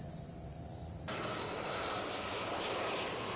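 An airplane flies overhead near a park, its engine roar swelling into a loud, broad, steady rumble that fills the whole stretch, with no voices.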